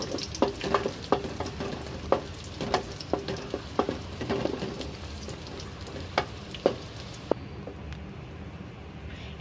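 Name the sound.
frying cashews, raisins and almonds in a pan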